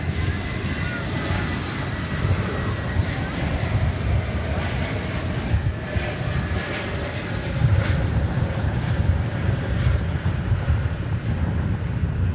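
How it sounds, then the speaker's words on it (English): American Airlines jet climbing away on takeoff from DFW Airport, a broad steady engine roar holding at moderate loudness throughout, with a voice talking briefly over it. "Rocketing off into the sky there was American Flight 1233 to parts unknown"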